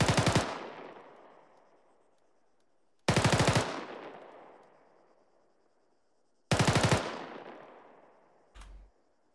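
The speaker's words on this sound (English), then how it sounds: "a cyclic rate of fire with the M4 sounds something like this" Three loud, close fully automatic bursts from an M4 rifle firing at cyclic rate, each short burst followed by a long ringing echo decay, with a brief dull thump near the end.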